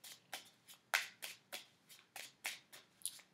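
Universal Mini Tarot cards are shuffled up close, their quiet riffling swishes coming in a steady rhythm of about ten short bursts with no talking.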